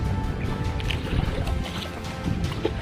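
Rough sea water sloshing and churning around a boat in strong waves, steady and close, with gusty wind noise across the microphone.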